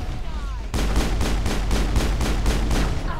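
Gunfire in Mass Effect 1 breaks out abruptly as a rapid, even train of about eight loud, sharp shots in close succession, with a faint background hum before it starts.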